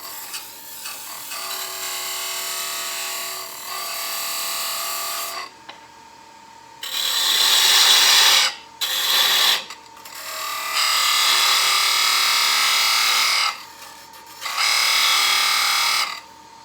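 Wood lathe cutting a spinning dowel blank with a parting tool and checking against calipers, giving loud bursts of scraping, rasping cutting that stop and start across the stretch, with no talking.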